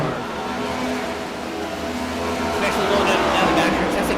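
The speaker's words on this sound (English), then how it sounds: "Absolutely love the engine sounds of this car." A race car engine revving on the track at Phoenix, a steady loud drone that rises in pitch and intensity toward the end, with a commentator talking over it.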